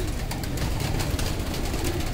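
Pigeons coo steadily on a rooftop in Kashmir amid dense, constant background noise, the calls low and continuous across the short stretch with no speech.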